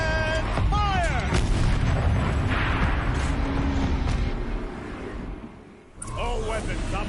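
Heavy booming gunfire from a turret in the video game Horizon Zero Dawn, a dense continuous barrage of loud blasts with rumbling tails, briefly easing before resuming, with game voice effects mixed in.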